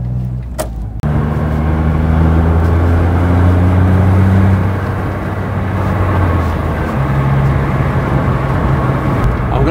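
A Smart ForTwo with newly replaced anti-roll bar links and lower arm drives along bumpy back roads, a loud, steady cabin rumble of engine and road noise with a low drone that shifts pitch partway through.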